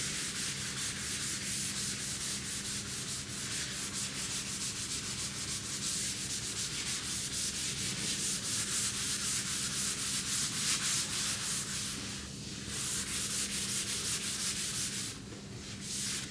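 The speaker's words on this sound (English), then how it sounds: "I'm gonna go ahead and sand the rest of the cabinet." Steady, continuous scratchy rubbing of sandpaper across a primed wooden cabinet, close and even for the whole stretch, with a couple of brief pauses as the sander shifts position.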